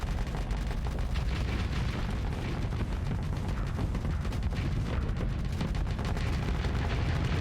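Spaceship weapons firing during a space battle in Starsector, a dense, continuous barrage of booming blasts and rapid crackling impacts with a heavy low rumble, loud and unbroken throughout.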